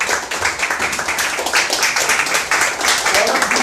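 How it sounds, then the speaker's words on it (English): Loud, dense audience applause at a live 2016 music awards jury session, many hands clapping steadily throughout a few seconds. "can we have a big round of applause for ArtistAloud for making this happen?"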